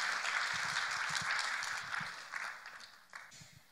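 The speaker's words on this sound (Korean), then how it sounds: "우리 박수로 격려로 우리 환영하십니다" Audience at a Korean mission fair lecture hall applauding to welcome the next speaker, a steady dense clapping that gradually fades over a few seconds.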